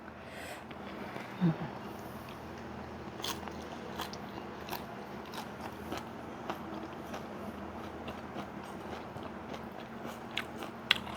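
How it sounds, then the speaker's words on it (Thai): Neem flowers are eaten on their own without rice, giving quiet, close, irregular bites and crunchy chewing with small scraping sounds spread across the whole stretch. "ก็เลยกินดอกสะดาวเล่น กินดอกระเดาเล่นอย่างโหด"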